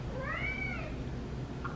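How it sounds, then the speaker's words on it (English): A pet cat called Aiko gives one clear, rising-and-falling meow nearby in a quiet room, with no voices present. "I love when I call him and he meows."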